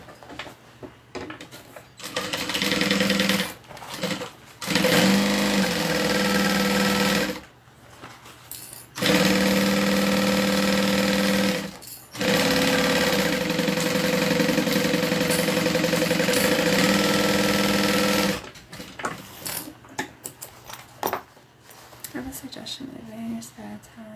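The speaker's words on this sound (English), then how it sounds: "We have, like, not a Roomba, but one of those vacuum cleaners, and it's just running downstairs." A robot-style vacuum cleaner drones loudly downstairs in long stretches, starting and stopping, while people talk during the quieter gaps.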